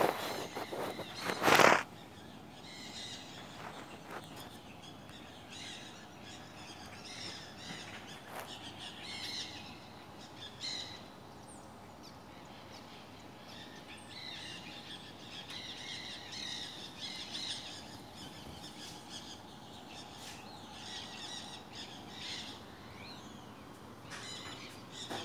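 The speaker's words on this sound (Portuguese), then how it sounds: "Olha os passarinhos." Birds at dawn on a beach in Boca Raton give one loud, close squawk near the start, followed by scattered faint distant calls and chirps over quiet ambient background.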